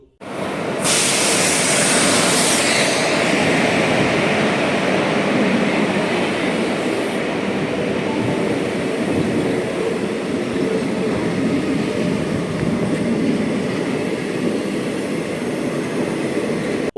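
Guruvayur–Chennai Egmore Express pulling into Chirayinkeezhu railway station in Kerala before dawn, a loud, steady rumble and rush of the train running continuously close by, with a brief hiss near the start.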